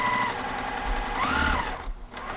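A sewing machine running at a 2.0 stitch length while piecing a quilt block, a fast mechanical whirr of stitching up close, with rising and falling motor tones before it briefly stops.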